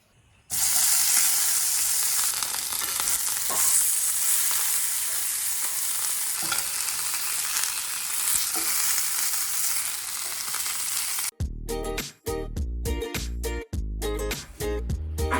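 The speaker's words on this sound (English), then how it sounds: "So now I'm just gonna sear the edges." Edges of a rack of lamb seared in a pan after Suvie cooking give a loud, close, steady sizzle for about eleven seconds, then music takes over.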